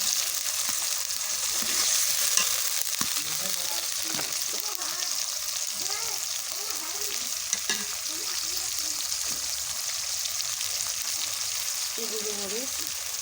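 A paste of ginger, garlic and cumin fries in hot oil with a continuous crackling sizzle, with soft stirring scrapes and a faint voice in the background.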